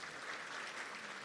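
Civic audience at the 2024 Chesapeake State of the City address breaks into steady, even applause, a soft wash of many hands clapping with no voices over it.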